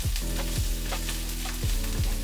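Powdered coriander and cumin sizzle in a hot pan just after ginger garlic paste, for a butter beans take on butter chicken; a steady close frying hiss runs throughout, broken by a few soft stirring scrapes.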